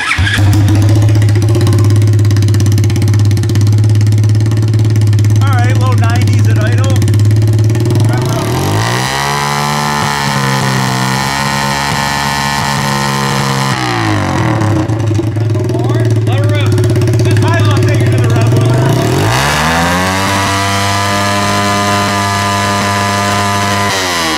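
Car engine revved hard to its rev limiter during a muffler test, loud sustained droning with pitch climbing, holding, dropping and climbing again, with voices heard over it.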